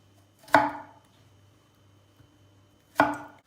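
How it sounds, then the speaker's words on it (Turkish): Two sharp knife chops through onions on a cutting board, about two and a half seconds apart, each a crisp thud with a short ringing tail, near and alone. "Soğanlarımız da iri doğranacak."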